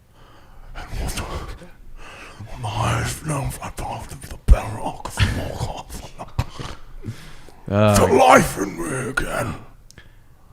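Heavy, gasping breaths from a scene in a Hobbit film, rising and falling through about ten seconds and mixed with a spoken line and strained vocal sounds, loudest near the end.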